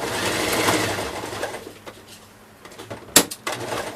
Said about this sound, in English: So let's go ahead and step on the pedal, and we're going straight stitch.